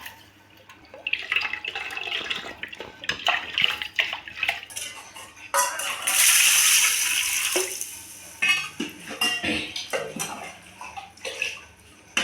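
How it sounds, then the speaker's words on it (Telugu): Water splashes and runs into a metal vessel of horse gram for ulava charu, with clinks of cookware and a bright rushing burst midway, close and fairly loud. "ఉలవచారుకు సరిపడా నీళ్ళు పోసుకుంటున్నానండి."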